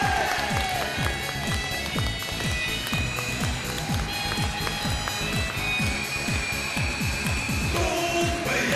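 Studio audience applauding on a Chinese TV dating show: dense, steady clapping from a crowd, with music playing underneath throughout.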